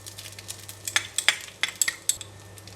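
Rice with oyster sauce, pepper and garlic being stirred in a pan with a metal utensil, giving close, irregular clinks and scrapes against the pan over a low steady hum.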